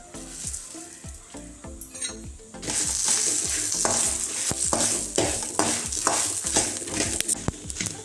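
Cumin and mustard seeds frying in hot oil for a wild jackfruit curry, with soft clinks and stirring at first, then a loud, steady sizzle with spoon scrapes against the pan.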